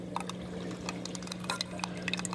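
Water spilling steadily over a weir, a continuous wash of flow with a steady low hum and scattered bright splashes and drips close by, no talk.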